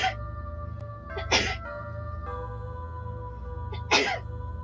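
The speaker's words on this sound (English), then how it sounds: "Oh my god, I'm gonna sneeze!" Two sharp sneezes about two and a half seconds apart, close and loud over a steady, humming game soundtrack in a Hello Charlotte playthrough, with no talking.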